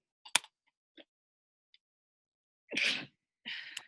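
A sudden, forceful sneeze, followed moments later by a second sharp, breathy burst after a near-silent stretch.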